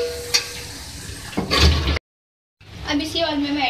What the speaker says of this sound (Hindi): इसको हम फ्राई करेंगे। प्याज का गोल्डन कलर आई है